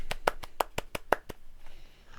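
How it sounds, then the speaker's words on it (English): A short burst of hand clapping, about eight sharp claps in quick succession, close and fairly loud, ending in a quiet room tone with no voices over it. "Clap sound effect."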